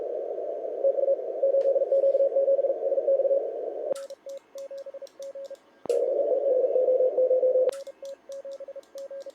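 Morse code CW signal on an Elecraft K4 radio on 17 meters, a steady tone keyed into long and short beeps amid faint static, with brief clicks between transmissions.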